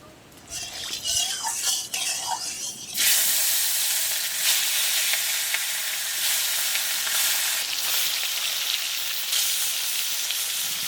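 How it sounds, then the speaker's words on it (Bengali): Loud, steady sizzling of black carp frying in hot mustard oil in a kadai fills the clip after a few seconds of clattering, hissing on without a break. "কড়াই ভালো করে তাতিয়ে নিয়েছি সর্ষের তেল দিয়ে গরম হলে মাছগুলোও ভেজে নেবো ভালো করে"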